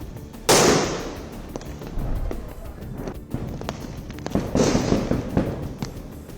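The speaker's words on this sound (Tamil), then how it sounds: "ராக்கெட்டுகள் உள்ளிட்டவற்றை ஏவியும் புஸ்வானம் உள்ளிட்டவற்றை கொளுத்தியும் தீபாவளியை மக்கள் கொண்டாடி வருகின்றனர்." Diwali fireworks in Chennai, with rockets and fountains going off: a sharp loud burst, then crackling and hissing bangs of varying distance, and a second strong hissing burst later.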